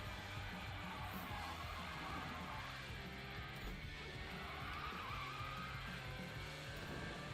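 A car drifting in Need for Speed 2015 gives a sustained tire skid hiss over a steady engine rumble, loud and unbroken for several seconds without speech.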